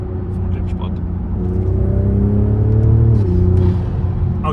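A BMW Z4 with a B58 engine and aftermarket intake drones loudly from inside the cabin, a steady low rumble that rises in pitch under acceleration and then drops sharply as the revs fall.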